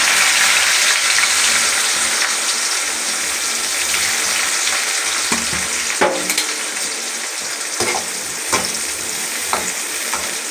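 Finely chopped onions fry in a pan for a village-style fish curry, a loud, dense, continuous sizzle with occasional stirring scrapes, close up and without speech.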